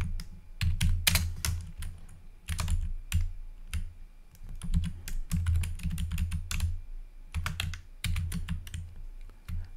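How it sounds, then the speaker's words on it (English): Someone types on a computer keyboard in bursts of quick, crisp key clicks with brief pauses, close and clear with no talking. "Here you have to use your keyboard to give the answer."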